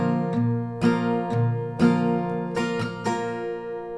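Acoustic guitar strummed in a steady bass-then-chord pattern, sharp down and up strokes ringing together, close and clear with no voices.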